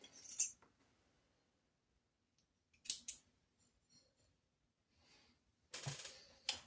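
Scissors snip through fabric from a thrifted jumpsuit in a few sharp, close cuts spaced by quiet pauses, with no talking.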